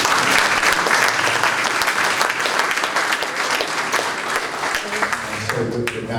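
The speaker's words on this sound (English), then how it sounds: "Come on, let's clap." A church memorial gathering audience claps loudly and continuously, a thick roar of many hands that gradually eases, with a few voices emerging near the end.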